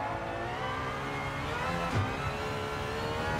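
Aston Martin Valkyrie engine roaring steadily in Gran Turismo 7, a loud continuous high-pitched drone with a brief blip near the middle, no talk over it.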